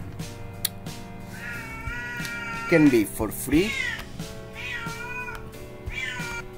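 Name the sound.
cat meowing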